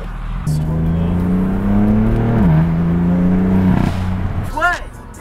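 A car revving and accelerating hard in an informal street drag race in Southampton, its engine roaring loudly and steadily with a gear shift midway, then settling as the run ends.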